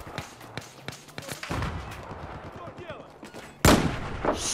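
Gunfire from a weapon in Battlefield 4 during a night operation: sharp shots in a quick burst, then sustained clattering firing with a loud blast near the end, amid game battle noise.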